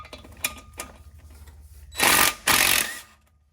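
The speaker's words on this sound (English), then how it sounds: "So I'm going to get to pulling these bolts apart and removing the old clutch and flywheel." 12mm clutch bolts loosened on a Nissan 350z, a few light metallic clicks followed by two loud, close bursts of a power tool rattling, each lasting about half a second.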